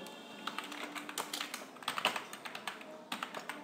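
Typing on a computer keyboard while entering an accounting voucher in Tally, a quick uneven run of soft, close key taps alone with no talk.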